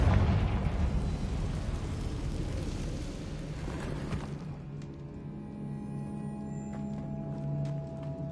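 A Confringo fire spell exploding in Hogwarts Legacy, a heavy rumbling blast that decays over several seconds into quieter ambient tones and faint clicks.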